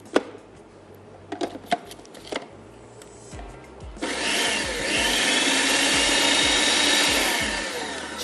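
A knife repeatedly chops boiled spinach on a board for saag kofta, with a few sharp taps at first, then steady rhythmic chopping under a loud, continuous rushing noise.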